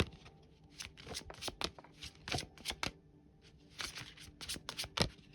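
A chakra oracle card deck being shuffled by hand, a close series of soft riffling bursts and flicks of cards in uneven clusters, quiet and alone.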